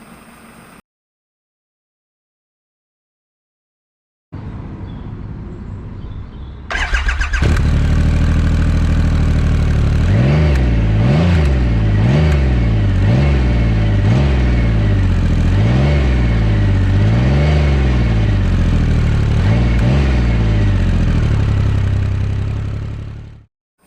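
Big truck engine idling and running right beside a roadside spot, starting with a loud burst, then a heavy, steady rumble with a rhythmic pulsing throb, close and dominant until it cuts off.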